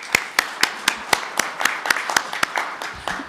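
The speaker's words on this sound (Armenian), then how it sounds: "ես առաջարկում եմ, որ մեր գործարարներին նույնպես մենք ծափահարենք իրենց կատարած աշխատանքի համար" Rhythmic, unison clapping in a government cabinet session: about a dozen evenly spaced, crisp claps from a small group, steady and fairly close.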